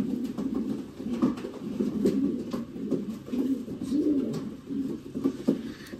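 Pigeons coo continuously in low, soft, overlapping calls at a racing pigeon loft, with occasional faint clicks and rustles nearby.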